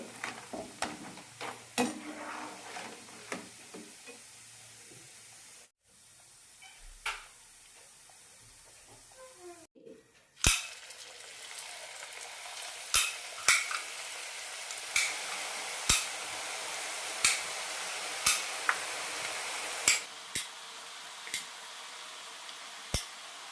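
Rice flour ribbon pakoda frying in hot oil, a steady low sizzle with scattered sharp ticks and pops, quieter at first and then louder and denser, with brief gaps where the oil goes still.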